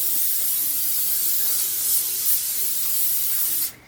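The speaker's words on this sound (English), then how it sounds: "Spray it down before you start it so you don't get a fire." A continuous hiss of spray onto a barbecue grill before lighting it, loud and close, running steadily for a few seconds before cutting off abruptly.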